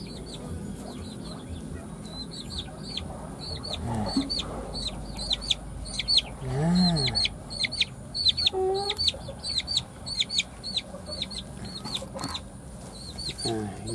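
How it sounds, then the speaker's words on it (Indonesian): Red junglefowl cluck in a farmyard with repeated short calls, while birds chirp steadily and a voice murmurs faintly in the background. "Jadi ini ayam hutan"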